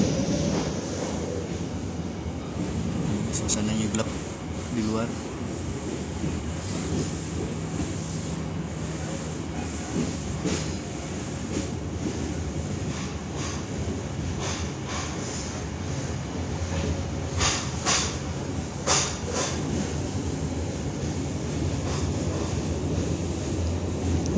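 A KA Siliwangi passenger train runs through a 700 m single-track tunnel, giving a steady, loud low-frequency rumble and roar with rattling, constant throughout, and a voice speaks briefly over it.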